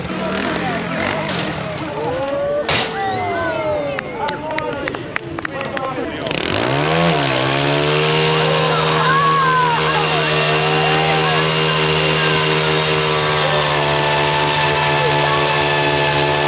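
Slingshot, a big purple monster truck at a stunt show, warms up its engine: after a few seconds of crowd and background noise, a loud, steady, droning idle sets in and holds close and unbroken to the end.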